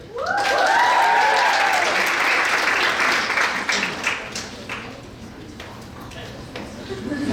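An audience at a GSOCC team banquet claps loudly through the room, peaking early and then easing into softer, scattered clapping, with a voice speaking over the start.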